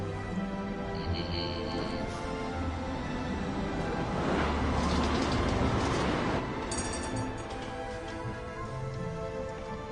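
Tram arriving and riding in the video game Syberia: The World Before, a steady rumbling ride with rattling wheels and a louder, rushing swell midway, continuous throughout.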